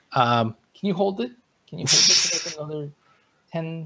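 A single sharp sneeze bursts out between stretches of conversation, loud and close, with a person talking just before and after it.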